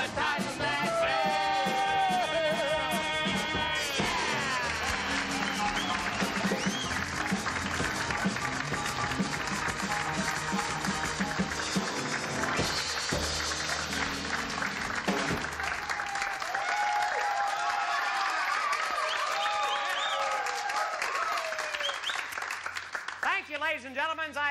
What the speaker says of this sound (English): I appreciate that generous applause.